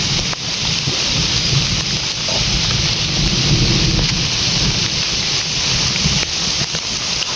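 Steady heavy rain pours throughout on a village, with low rumbling thunder rolling underneath; a dense, continuous wash of sound with no voices.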